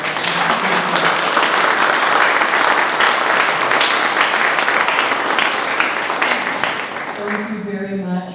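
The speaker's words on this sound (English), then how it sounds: "I want another huge round of applause for our." An audience applauds at a clean energy district panel discussion in Lake Oswego, loud sustained clapping filling the room, then fading near the end as a voice begins speaking.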